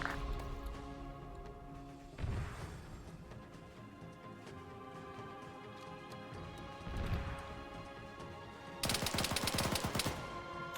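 Gunfire in the Arma 3 video game: scattered shots and crashes, with a loud rapid burst of automatic fire near the end over a steady background hum.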